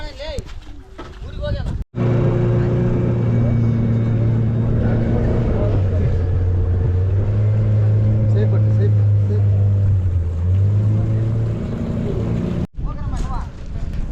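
A motor boat ferrying people and vehicles across a river near Hampi, Karnataka, with a steady loud engine drone and hum that shifts pitch midway, running for most of the stretch.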